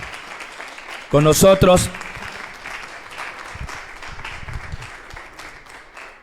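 A university audience at the presentation of Antonio Malacara's jazz encyclopedia applauds him, a burst of clapping lasting under a second that fades into scattered claps and room murmur while someone speaks.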